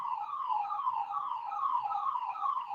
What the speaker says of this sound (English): Sorry for that, siren is coming there